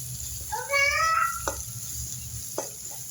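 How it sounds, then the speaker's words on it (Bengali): Ginger garlic paste sizzles with fried onions in a pan while being stirred, a steady close sizzle with a few scraping stirs and a brief whistle-like tone early on. "আদা রসুন দিয়ে একটু নাড়াবো"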